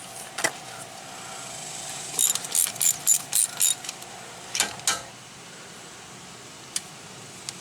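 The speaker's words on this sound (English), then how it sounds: "You can take off these 8 bolts. They're 12mm, and after that, the 3rd member comes out." A ratchet removing 12mm bolts from the front axle of a 1987 Suzuki Samurai, a quick burst of about six clicking strokes in a row, then a few scattered clicks and clanks against faint background noise.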